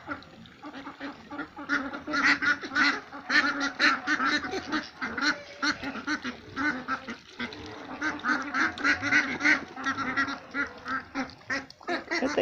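Indian runner ducks on a village farm quack steadily in a dense, overlapping flock, loud and close, the calls coming in rapid rhythmic bursts throughout with no talking.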